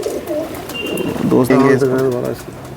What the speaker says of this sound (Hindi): ये आप देख सकते हैं लाल आँख का कबूतर है